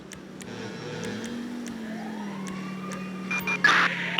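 An emergency vehicle in the video game GTA 5 responds code 3 through the city streets, its wailing siren rising and falling steadily and loudly, with a few clicks and a burst of radio-like noise near the end.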